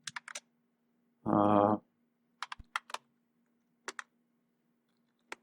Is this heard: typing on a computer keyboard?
yes